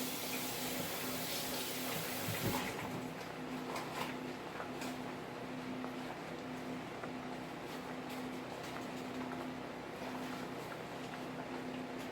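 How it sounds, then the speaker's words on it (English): Water runs steadily from a kitchen tap for several seconds, a continuous close hiss as it is added to cornstarch for a sauce. "Now I'm about to add water."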